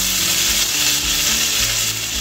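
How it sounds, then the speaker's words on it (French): Shrimps sizzling in a hot pan for spinach macaroni, a loud, steady crackling hiss close up with faint low scrapes and no voices. "Nous allons laisser nos crevettes cuire au moins pendant 1 minute 30."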